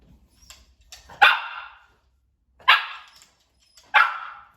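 Three sharp barks from a dog standing on a stool, spaced a second or so apart, close and loud, with quiet pauses between them.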